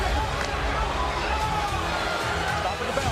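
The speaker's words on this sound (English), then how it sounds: "And you can hear the reaction from the crowd." Boxing crowd roaring and murmuring through a brutal fight, a dense, steady wash of cheering and chatter held at one loud level throughout.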